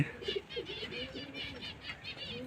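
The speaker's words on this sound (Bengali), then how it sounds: "পায়রাগুলো এই উঠছে" Seven pet pigeons take off from a home loft, a soft flutter of wingbeats in quick repeated bursts, with faint bird calls behind.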